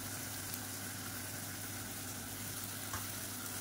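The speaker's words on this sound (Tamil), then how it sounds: "இஞ்சி பூண்டு பேஸ்ட்டு பச்சை வாசனை போக வதக்கியாச்சு" Ginger garlic paste sautéing in a pan for drumstick paya, a steady low sizzle with a continuous hum running underneath, fairly faint and even throughout with no voices.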